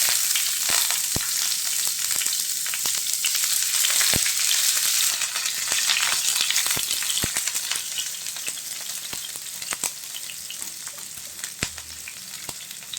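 Chopped onions fry in a pan for a mixed vegetable fry of kakrol and bitter gourd, giving a steady loud sizzle with scattered sharp crackles and pops throughout and no talk.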